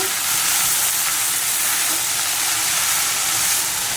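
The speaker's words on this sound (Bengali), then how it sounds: "এটা ভাজা ভাজা হচ্ছে" Steady, dense sizzling of onions frying in a pan, loud and close, continuing evenly without pause or talk.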